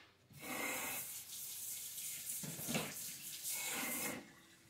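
A tap runs over a whole cucumber with its ends cut off, a steady hiss of water rising and dipping as the vegetable is turned and rubbed under the stream, close and alone for juicing.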